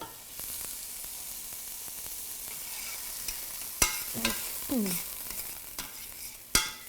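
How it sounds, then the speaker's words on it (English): Onions frying in a pan are stirred with a few distinct scraping strokes over a steady soft sizzle, close and alone with no voices. "I'm going to give my onions a little bit of a stir here."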